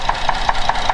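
An unhealthy Ford car engine runs close by, a steady idle with a regular knocking tap roughly five times a second throughout.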